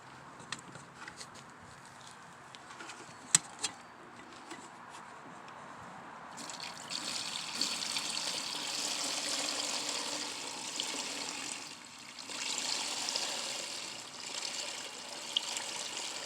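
Worm tea leachate is poured. A few quiet drips are followed by a steady, hissing pour that runs for several seconds, dips briefly, then resumes with occasional splashes, all close and without talk.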